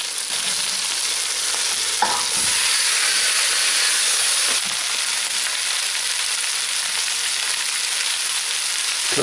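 Potatoes and softened onions frying in oil for spicy aloo sabzi give a loud, steady sizzling hiss throughout, with a couple of brief scrapes as they are stirred.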